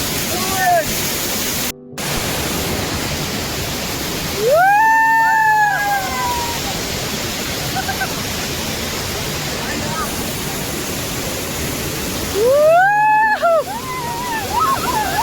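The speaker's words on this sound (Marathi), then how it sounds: "आता धबधब्याच्या इथे आनंद घेतलेला" A village waterfall in the Konkan region gives a steady, loud rush of falling water throughout, with voices calling out briefly twice over the roar.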